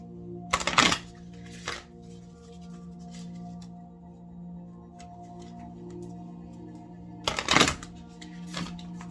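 Tarot cards are shuffled and pulled in two short bursts of quick riffling and snapping, near and fairly quiet, separated by a long stretch of low background hum.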